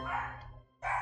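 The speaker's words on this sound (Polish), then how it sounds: "No mój pies mnie denerwuje. No nie, no nie może być cicho." A pet dog barks indoors while a Roblox game is being played, two loud, close, drawn-out bark bursts separated by a short lull.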